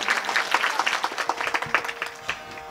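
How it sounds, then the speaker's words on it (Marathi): Audience applause at a live comedy kirtan performance, a dense burst of clapping from a crowd, loud and close, fading slightly toward the end with no voices over it. "ताईंसाठी जोरदार टाळ्या वाजवायची।"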